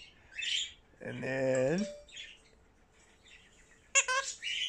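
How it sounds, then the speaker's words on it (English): A pet bird held in someone's lap gives bright chirps and a longer squawking call, close and fairly clear, with a person's brief speech in between. "I put the bird in my lap"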